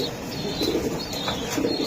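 Racing pigeons coo close by in soft, throaty rolling calls, with a few light chirps mixed in and no talking.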